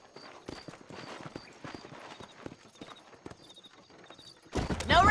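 Horse hooves clip-clop in a loose walking rhythm in a Western video game, moderately close and fairly quiet, with faint melodic tones in the background, before a louder burst of noise takes over near the end.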